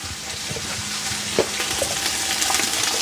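Onion sautéing in a hot pan, a steady close sizzle and crackle running throughout with light stirring scrapes and one brief clack midway.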